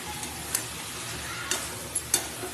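Spiced mixed vegetables with prawns sizzle steadily in a pan while a utensil stirs them, with a few sharp scraping clinks against the metal spaced across the soft, continuous frying hiss.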